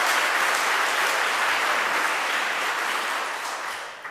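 An audience at a celebration of the freedom to marry breaks into loud, sustained applause, a dense wash of clapping that holds steady and begins to taper off at the end.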